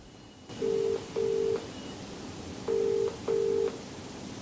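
Four short, clear telephone keypad tones sound in two evenly spaced pairs as a number is dialed, each beep bright and steady over a faint background hiss.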